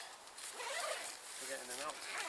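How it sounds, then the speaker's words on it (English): Zip on a Vango Ultralight 100 one-man tent being pulled, a faint, close ratcheting rasp in two strokes with a quiet voice underneath. "So we've got covers over zip down here and down here"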